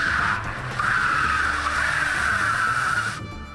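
A car braking hard with tires screeching in a long sustained squeal over engine noise, during defensive driving training, fading out abruptly at the end.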